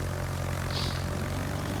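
Carrier-launched planes from the Sekiryu in World of Warships drone steadily throughout, a constant propeller-engine hum with no voices.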